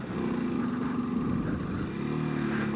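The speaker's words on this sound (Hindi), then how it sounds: "पहले गियर में था बाइक," A 125cc motorcycle in first gear labors up a steep uphill mountain road, its engine droning steadily and close, with a slight dip in pitch partway through.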